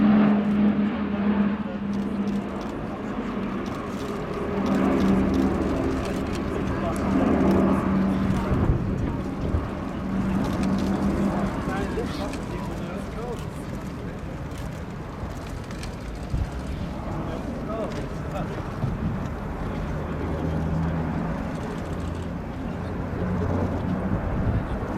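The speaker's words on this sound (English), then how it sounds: "And then just as rapidly, the aircraft returning to low level." An Airbus A400M Atlas military transport aircraft flies a low-level display at the RAF Fairford airshow, its broad, steady turboprop roar filling the air continuously, swelling slightly and holding loud throughout.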